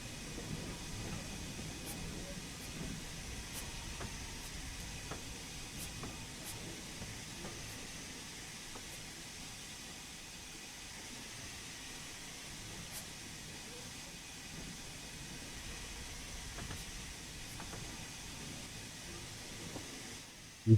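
Train Sim World 3 locomotive climbing uphill while shunting coaches at Edge Hill, a steady low engine rumble with constant hiss, a few faint clicks along the way, and no voice over it.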